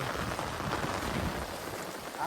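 Heavy rain pours down outdoors near a coastal creek, a dense, steady hiss of drops hitting surfaces, fairly faint and continuous with no voices.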